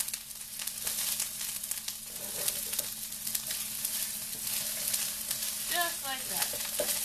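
Egg for omurice cooking in a non-stick pan, a steady, close frying sizzle with light crackles throughout and a brief squeaky scrape near the end.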